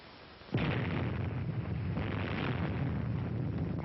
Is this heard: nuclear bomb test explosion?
yes